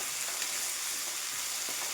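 Curry leaves and green chillies fry in a pan while being stirred, a faint, even sizzle with light intermittent stirring scrapes over about two seconds, no speech.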